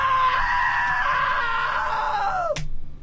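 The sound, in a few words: scream in video game What Remains of Edith Finch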